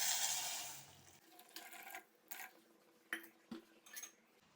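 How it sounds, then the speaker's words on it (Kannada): Water is poured into a pot of cooked vegetables, a splashing gush that fades, followed by several soft clinks of a glass or utensil against the pot, quiet and close. "ಈಗ ಇದಕ್ಕೆ ನಾನು ಒಂದು 2 ಗ್ಲಾಸ್ ವಾಟರ್ ಆ್ಯಡ್ ಮಾಡ್ತೇನೆ"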